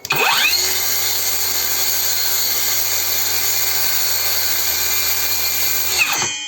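SHIDOKU cordless circular saw, run with no load, spins up from a start, holds a steady high-pitched motor whine for several seconds, then winds down. It is close and loud with no talking.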